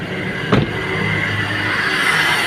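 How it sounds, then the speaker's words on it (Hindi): The petrol engine of a Chevrolet Sail idles with its belt turning, making a steady close-up mechanical hum and whir with one brief knock near the start. "देखिए गाड़ी स्टार्ट है, यहाँ बेल्ट घूमने लग रहा है, क्लियर हो रहा है आपको।"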